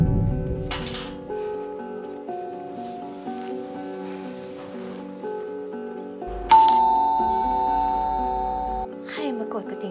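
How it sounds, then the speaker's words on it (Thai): An early-morning home doorbell gives a bright ding-dong chime that rings out and decays over several seconds, heard over quiet background and soft indoor sounds. "ใครมากดกระดิ่งแต่เช้าเลย"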